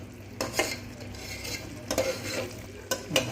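Ground masala for Chettinad mushroom biryani is stirred in a pot, a low sizzle broken by three scraping strokes of a spoon against the metal, close and unaccompanied by speech.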